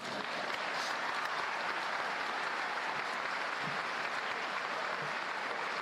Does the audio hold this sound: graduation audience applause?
yes